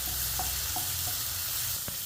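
Tomatoes sautéing in a pan for brinjal chops, after small onions have softened: a steady, close hiss of frying with a few soft stirring scrapes, with no talking.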